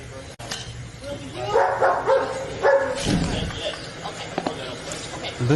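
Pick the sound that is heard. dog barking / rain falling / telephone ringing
dog barking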